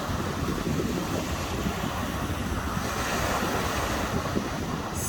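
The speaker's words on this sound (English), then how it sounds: "I've just come for a bit of a walk along the beach this morning" Ocean waves wash onto a winter beach in Melbourne with a steady, broad roar of surf mixed with wind buffeting the microphone, constant throughout and without talk.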